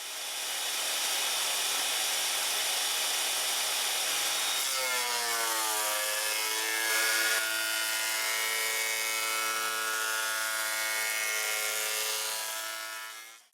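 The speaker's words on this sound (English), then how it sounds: "run them through the planer all at once and do the edges all at the same time" A machine running steadily in a woodworking shop, pitch shifting partway through as if wood boards are fed through a planer to even their thickness and edges, loud and sustained, with no talking.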